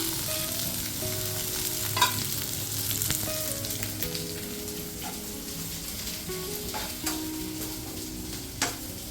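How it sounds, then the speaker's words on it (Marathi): Onion frying in a little oil in a pan, browning toward golden: a continuous close sizzle and crackle with occasional stirring taps, heard alone with no voices. "आता पॅनमध्ये टाकते ती कांदा. कांदा मस्त परतून घेईल, थोडासा गोल्डन कलर होईपर्यंत."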